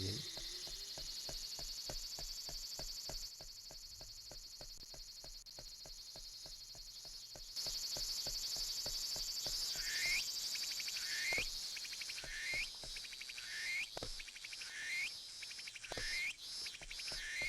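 Dense, buzzy cicada chorus from the PSP game Boku no Natsuyasumi drones steadily throughout, with faint repeating chirps and soft ticking in the background.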